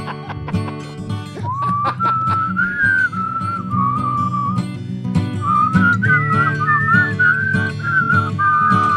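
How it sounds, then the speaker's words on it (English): Melodic whistling carries a wandering tune over a steady musical backing, loud and close, with a short pause midway before the whistled melody resumes. "we'll start whistling"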